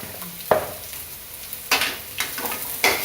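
Onions sauté in a pan for Tamil beetroot poriyal under a soft, low sizzle. Four sharp spatula scrapes and clanks cut through at irregular intervals, close and fairly loud, with no talk.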